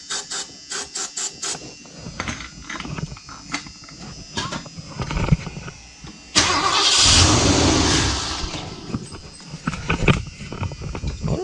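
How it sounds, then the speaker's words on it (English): A 1978 Ford E150 van engine turns over in repeated cranking bursts with clicks and knocks, one longer louder crank in the middle, fairly close and uneven, without catching. "Definitely cranking better now though."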